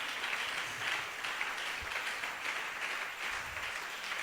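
A church congregation applauds in praise, a steady, even wash of many hands clapping together. It is heard at a moderate distance and holds for several seconds without letting up.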